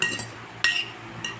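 A spoon knocks against a bowl while a sliced cucumber snack is mixed, three or four bright, fairly faint clinks spaced apart.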